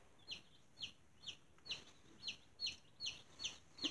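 Small baby chicks peeping in a brooder, a steady series of about ten sharp, high cheeps spaced roughly every half second, close and clear over a faint background hiss.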